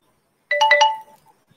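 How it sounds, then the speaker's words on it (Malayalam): A computer notification alert plays a short, bright chime of a few quick tones, clear and close, then fades into silence. "ഓക്കെ, ഇവിടെ നോട്ടിഫിക്കേഷൻ വന്നു."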